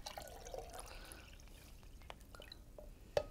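Water poured into a fermentation batch with grains, faint trickling and dripping with a few sharper splashes and drops near the end, quiet and close.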